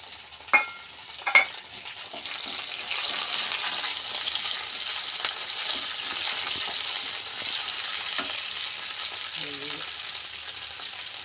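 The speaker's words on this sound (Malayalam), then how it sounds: "പച്ചമുളക് ഇട്ട് കൊടുക്കുക. ഒന്ന് വഴന്ന് വരയ്ക്കുക. കറിവേപ്പില ഇട്ട് കൊടുക്കുക." Green chillies and curry leaves sauté in hot oil for mango pickle, with a steady hiss of frying, two sharp clinks near the start and occasional stirring scrapes, close and fairly loud, without talk.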